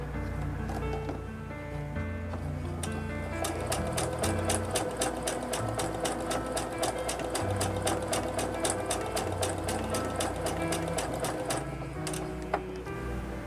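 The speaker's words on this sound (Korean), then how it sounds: "이렇게 손으로 한 땀을 움직인 후에 발판을 밟아서 직선 재봉하듯이 시작해 주세요." A sewing machine fitted with a ruffler presser foot gathers fabric into frills, starting with a slow hum and settling into a rapid, even mechanical clacking that runs steadily for about ten seconds, close and clear.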